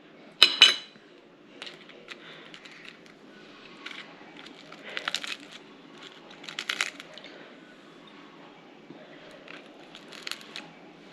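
A crispy Vietnamese banh xeo pancake is broken apart by hand, giving a sharp crackling snap up close at the start, then scattered lighter crunches and rustles as pieces are torn and handled.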